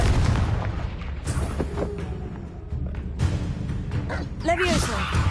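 The Confringo blasting spell goes off in a Harry Potter video game, a booming explosion with a spoken incantation and other spell shouts over a rumbling game soundtrack.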